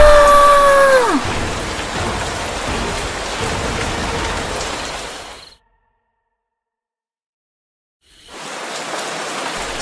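Steady rain in The Sims 3 pours down in a dense hiss, then cuts to silence for a few seconds before the downpour resumes.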